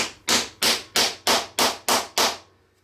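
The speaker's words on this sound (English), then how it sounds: "hammer that T-nut home, and then do the same for the other one." A hammer drives a T-nut into a wooden workbench arm with seven sharp, evenly spaced blows, loud and close, then falls silent.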